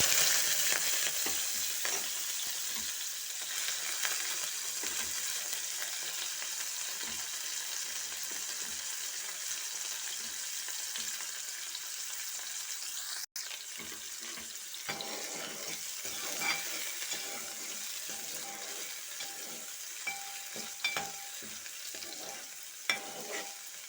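Green chillies, onion and curry leaves fry in hot oil, a continuous close sizzle and crackle with occasional stirring scrapes over a long stretch, no speech.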